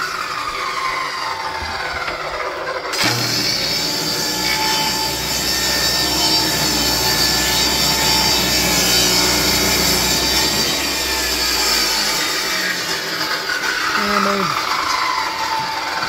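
A power saw rips free pallet wood boards down to width, a steady loud whining cut that starts abruptly and runs continuously, with someone talking over it near the end.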